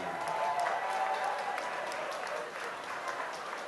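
A crowd at a boxing event at Edgbaston Stadium, Birmingham, applauds and cheers a boxer after a first-round TKO, with steady, dense clapping and crowd noise throughout and voices mixed in.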